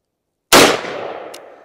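A single loud, close gunshot from a 16-inch .357 Magnum carbine firing Federal 158 grain soft point ammunition, a sharp crack followed by a decaying outdoor echo.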